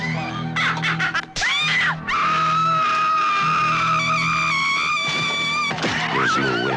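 A loud, sustained, high-pitched scream from a 1980s horror movie trailer, rising and holding for about three seconds. Shorter sharp cries come before it and after it, over a dark, droning score.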